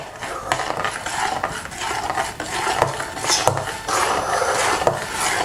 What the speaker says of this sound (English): now we just stir it through